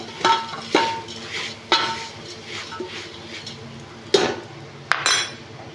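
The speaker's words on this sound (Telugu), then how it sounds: "అటుకులు వేసుకొని కలుపుకోవాలి కొన్ని కొన్ని వేసుకొని కలుపుకుంటూ ఉండాలి" Flattened rice (poha) being stirred in a pan gives intermittent metallic scrapes and clinks of a spoon against the pan, a few sharp knocks spaced seconds apart, with someone speaking throughout.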